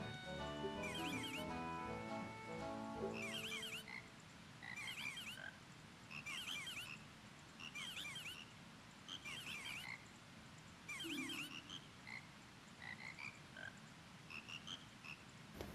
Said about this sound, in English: frog choir with random sound effects